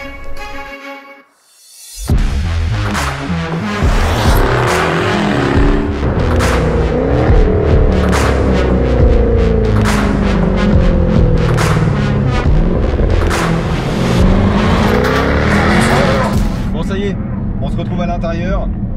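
A Jaguar F-Type P450 with a 5-litre supercharged V8 roars loudly on the road, engine note rising and falling through gear changes with sharp crackles, starting after a brief quiet moment.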